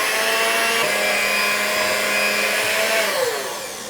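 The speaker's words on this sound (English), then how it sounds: "now we are going to whisk it once again." Chocolate chip muffin batter being whisked with milk, a steady continuous whirring buzz that stays loud and even throughout before easing off at the end, with no talking.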